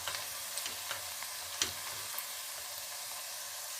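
Onions frying in a pan for chicken biryani, a steady soft sizzle with a few faint stirring clicks, quiet and continuous with no talk.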